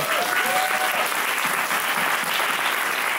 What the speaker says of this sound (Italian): Un applauso a Natalie.